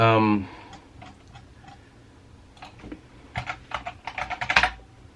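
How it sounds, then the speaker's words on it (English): Quick bursts of clicking on a computer keyboard, close and uneven, growing denser and louder toward the end after a brief voice at the start. "let me type"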